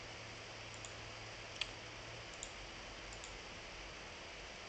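A computer mouse gives a few faint, sparse clicks over a steady electronic hiss in a quiet room, with no speech.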